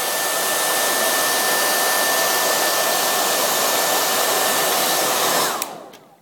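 A handheld hair dryer blows steadily at close range to reheat a Jamberry nail wrap, giving a loud, even whooshing drone that cuts off abruptly near the end.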